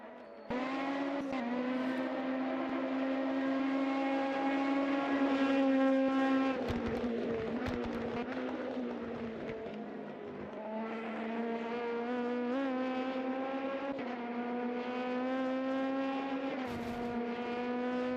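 An LMP2 prototype at Sebring in Automobilista 2 drones steadily at high revs, its engine note easing through gear changes and corners before climbing again, sustained and up close with no voices.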